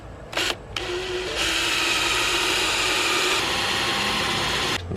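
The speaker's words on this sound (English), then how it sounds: "I'm going to drill just a hair forward of the old one here." A power drill bores a hole in a door for a Kwikset smart door handle, giving a sustained, loud whirring grind after a brief start-stop burst, then cutting off.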